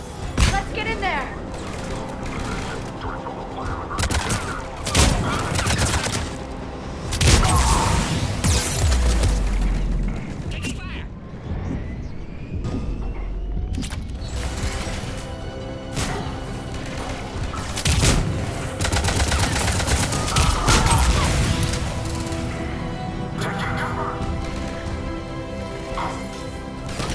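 Gunfire bursts and heavy booms in the Mass Effect 3 combat game, with Cerberus troops attacking a checkpoint; loud dense volleys and explosions throughout, with voices talking over the fighting.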